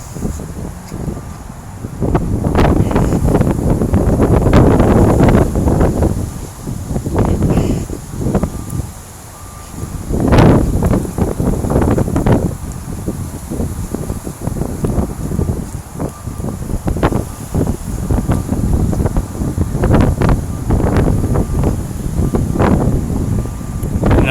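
Strong gusting wind buffets the microphone on a downtown Grand Rapids Halloween evening walk, a loud, heavy rumble that surges and eases in waves throughout, with faint city sounds beneath.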